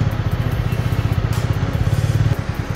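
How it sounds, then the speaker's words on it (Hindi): Apache RTR 200 motorcycle, freshly washed, just started and running close by with a steady, rapid low thumping idle pulse that holds for the whole stretch. "बाइक तो साफ़ हो गई है, इसको निकालते हैं। स्टार्ट हो जाए बस। ओ हो गई"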